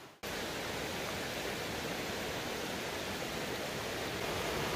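Deep Creek, a river in the Great Smoky Mountains, rushes in a steady, loud, broadband roar that fills the whole clip after a brief quieter start, with no voices over it.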